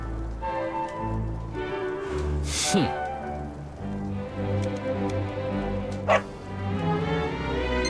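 A dog in the video game Dragon Quest XI S barks several times over game music, with a sharp yelping bark standing out near the middle and another later on.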